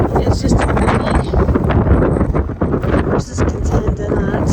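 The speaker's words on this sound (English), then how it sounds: "it's just too windy." Strong wind gusting at a horse ranch, a loud, continuous broadband roar buffeting the microphone throughout, with brief rustling bursts and faint knocks underneath.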